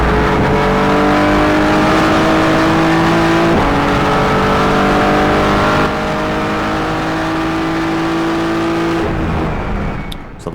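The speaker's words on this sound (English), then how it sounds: "The sound's absolutely fine." A race car engine in the video game Project Motor Racing roars loudly from the cockpit, pitch climbing through repeated gear shifts, then drops off near the end.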